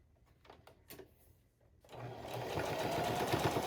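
A sewing machine starts up partway through and stitches a fabric cage pouch in a steady fast whirring chatter, preceded by a few quiet handling clicks and rustles, close and without talk.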